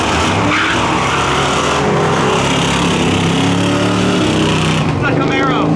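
Street-legal drag race cars at Oxford launching side by side, including a Camaro spinning its tires against a 1998 Mustang GT: loud, steady engine roar with tire noise throughout, under an announcer's continuous commentary.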